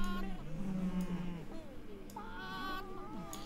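A cartoonish cow moos in the hand-drawn desert world of the video game Hidden Folks, a drawn-out low tone that bends and wavers for about a second, followed by a second higher, warbling moo.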